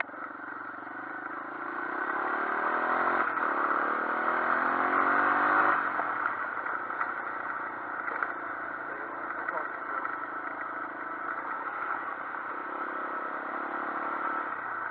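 Japanese Honda XL 250R motorcycle engine revving in a tight space, a close, steady mechanical drone that rises to a stronger rev early on, then settles back to a rough idle.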